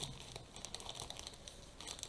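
A shipping package cut open with scissors, crackling plastic and crinkling wrap in quiet, close, irregular bursts.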